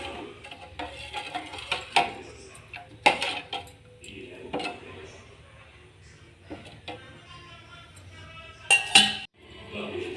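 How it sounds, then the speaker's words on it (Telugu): Tamarind juice is stirred in a metal pot on a high flame, a spoon scraping and clinking against the sides in scattered, fairly quiet knocks with a few sharper clanks. "ఇప్పుడు స్టవ్ హైలో పెట్టుకొని ఒకసారి కలుపుకుందాం."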